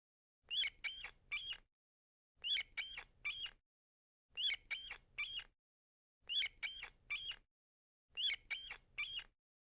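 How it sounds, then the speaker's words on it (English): Rat squeaking in quick bursts of three high, thin squeaks, repeated five times at even intervals, close and clear with silence between each group. "The rat says squeak, squeak."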